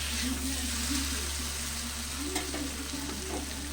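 Masala frying in oil in a covered pan until the oil separates, while cooking a homestyle rohu fish curry with vegetables: a steady, close sizzle with soft stirring scrapes and a low hum underneath, no talk.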